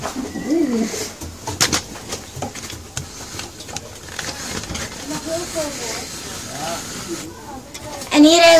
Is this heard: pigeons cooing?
yes